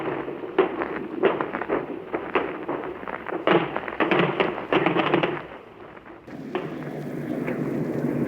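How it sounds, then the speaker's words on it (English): A wartime artillery barrage on the Normandy beach west of Ouistreham on D-Day, heard in an archival broadcast recording: rapid, repeated muffled thuds and bursts crowding together, then a brief lull before a rougher continuous rumble returns. "this terrific barrage goes on around us"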